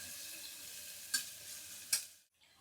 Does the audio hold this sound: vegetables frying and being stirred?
yes